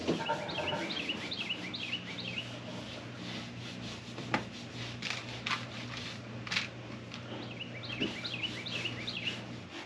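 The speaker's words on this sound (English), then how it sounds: "So not only do you get to hear the birds" Birds chirp in short bursts near the start and end over a steady low rumble and rubbing machine noise.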